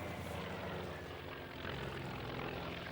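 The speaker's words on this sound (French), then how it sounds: "Le plus fameux des chasseurs embarqués de la Deuxième Guerre mondiale est sans conteste le F-4U Corsair" A Vought F4U Corsair WWII fighter flies at the Duxford airshow, its propeller engine giving a steady, fairly faint, distant drone with wind-like noise throughout.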